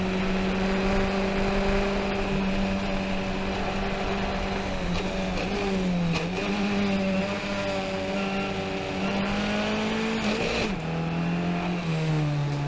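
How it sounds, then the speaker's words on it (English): Formula 1600 open-wheel race cars at Summit Point circuit roar past close by. Their engines keep up a loud, steady, high-revving drone that shifts pitch as they accelerate and lift, with no pause throughout. "We've got front row seats for a really good Formula 1600 race going on in front of us."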